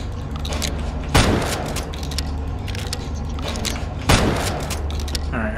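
Two heavy gunshots in Naked Deer Cult: The Whitetail Incident, spaced about three seconds apart, each a loud boom with a short tail over a steady game background and mechanical clicks.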